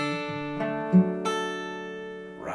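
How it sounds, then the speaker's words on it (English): An acoustic guitar plays a quiet, sparse Travis picking pattern from the third measure of L.A. Freeway, with a few plucked notes ringing out and sustaining close by. "I'm going to do a simple Travis picking pattern."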